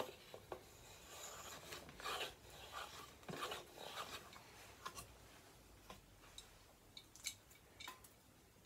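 Saker chamfer plane taking a pass along a wooden edge, giving soft rasping scrapes with scattered clicks and ticks, faint and close with an irregular stroke rhythm and no talking.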